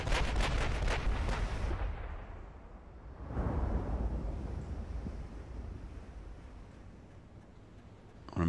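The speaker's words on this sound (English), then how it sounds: "Let's go ahead and see if our secondaries can fire on that." Secondary guns on a German H-class battleship fire at a destroyer in Ultimate Admiral Dreadnoughts with heavy booming blasts at the start and again partway through, trailing into a rumbling, windy roar of sea.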